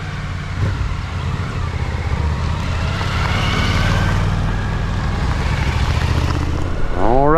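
Adventure motorcycles setting off on a mountain ride give a steady engine drone and wind rush that grows louder, ending with a rising rev as one pulls away close by.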